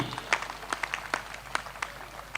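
Scattered audience clapping at a Hindi kavi sammelan poetry recital, a sparse, uneven patter of individual claps rather than full applause, fairly near and brief, with no speech.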